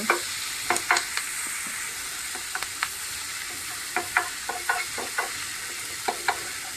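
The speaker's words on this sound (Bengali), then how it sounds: "মাংসগুলো ভালো করে সিদ্ধ হয়ে গেছে দেখতেই পাচ্ছ আর একটু ভালো করে লাল করে ভেজে নেব" Boiled meat being fried in a pan until browned, with steady sizzling broken by repeated sharp scrapes and clinks of stirring, close and moderately loud.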